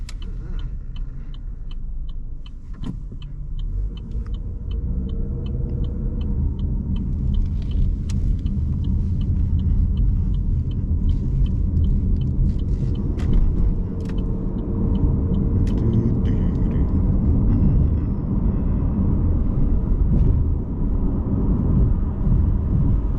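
Inside a used Chevrolet Malibu driving on the road with the air conditioning off, a deep steady rumble of tires and engine fills the cabin, growing slightly heavier as the car picks up speed, with no talking.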